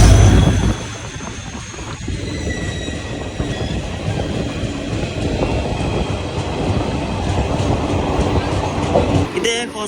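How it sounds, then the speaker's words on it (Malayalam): A diesel-hauled express bound from Hospet to Mumbai CSMT, pulled by a Kalyan-based WD-4D locomotive, rumbles past at close range with steady wheel clatter and rail noise filling the whole stretch, loud and continuous. "ഇത് ഹോസ്പേട്ടിൽ നിന്ന് മുംബൈ CSMTക്ക് പോകുന്ന ഒരു എക്സ്പ്രസ് ആണ്. ഇതിന് ഒരു ഡീസൽ ലോക്കാണ് കല്യാണിന്റെ WD-4D."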